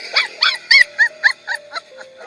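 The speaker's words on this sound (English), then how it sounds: "The dog was likely injured, as it was crying when the people tried to move the pipe." A small dog stuck between two pipes cries in a rapid series of about eight high, yelping whimpers, close and loud, tapering off toward the end.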